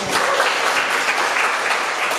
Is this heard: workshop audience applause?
yes